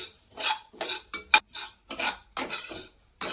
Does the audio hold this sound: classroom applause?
no